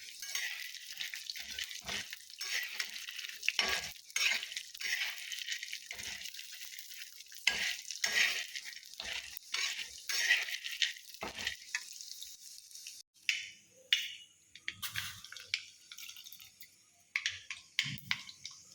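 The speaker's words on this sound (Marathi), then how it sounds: "शेंगदाणा तेल टाकून आधी गर आहे ना शेंगदाणा झालं तोंडात सांडग असं तेल टाकून कमी गॅसवरती आधी गर असं मंद वरती परतायचं असं भाजून घ्यायचं" Peanuts roasting in peanut oil over a low flame, stirred in the pan: a soft steady sizzle broken by scraping stirs and clinks, close and fairly quiet with no talking.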